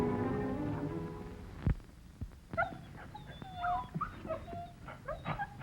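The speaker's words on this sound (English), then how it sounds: "Roy's wonder dog, Bullet." Bullet, Roy Rogers' wonder dog, gives a string of short, high whimpering yips and small barks, close and fairly quiet, after an opening of music; no talking.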